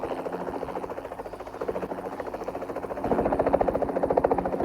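A helicopter in a video game thrums with a steady rapid rotor pulse, droning continuously and growing louder and closer in the final seconds.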